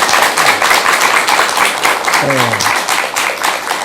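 An audience applauds a monk on a Korean television talk program, dense clapping that runs throughout, with a voice briefly speaking partway through.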